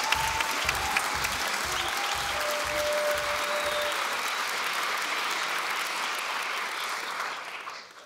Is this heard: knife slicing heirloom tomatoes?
no